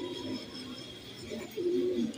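A pet fancy pigeon coos close by, a low soft throaty rolling call that swells louder near the end, over faint background noise with no talk.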